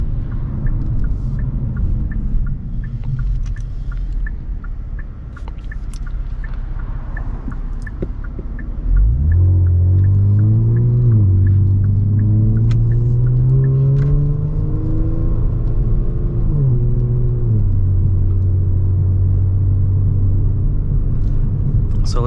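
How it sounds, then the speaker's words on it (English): A 2022+ Kia Stinger GT2 fitted with a Borla active valve exhaust drones while driving, then breaks into a loud, rising acceleration with upshifts and a deep, sustained exhaust note. "Definitely a good sounding exhaust for this car."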